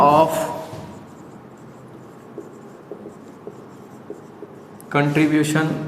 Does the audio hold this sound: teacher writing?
yes